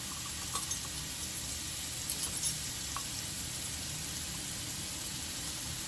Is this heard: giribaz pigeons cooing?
no